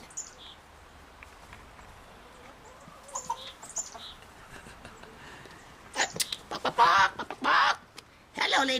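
Chickens cluck softly in a yard, scattered quiet clucks followed by a few louder bursts of activity toward the end, with faint background noise between them.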